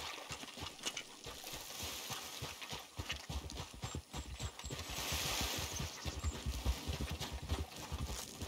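Horse hooves clip-clop at a steady walking rhythm in the Red Dead Redemption 2 video game, close and continuous, with a faint watery wash behind them.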